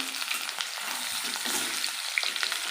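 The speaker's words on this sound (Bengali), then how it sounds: "হালকা সিদ্ধ করে রাখা আলুগুলো এর উপরে দিয়ে দেবো একটু একদম অল্প নাড়াচাড়া করবো" Parboiled potatoes tumble into a hot pan of spiced oil for Bengali aloo dum and are stirred gently, giving a steady close sizzle with light scraping and clinks throughout, no talking.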